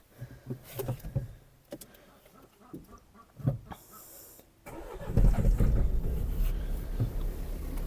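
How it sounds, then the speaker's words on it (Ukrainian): A car engine is started outdoors in a village after a series of clicks and faint knocks, then cranks and catches into a loud, steady idle that carries on to the end. "Зараз заведемо машину"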